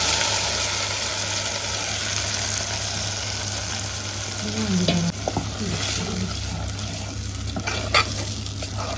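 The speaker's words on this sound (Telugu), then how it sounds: "ఇప్పుడు మనం మిక్సీ పట్టుకున్న మసాలా అంతా వేసేసుకోవాలి" Freshly ground masala paste with green chillies and curry leaves fries in oil for mutton keema while being stirred, giving a loud, continuous sizzle with scraping spatula strokes and a low steady hum underneath.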